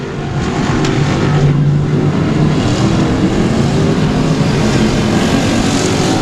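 Race cars at Cotton Bowl Speedway roar around the track, a loud, continuous dense engine drone filling the air with no voices over it.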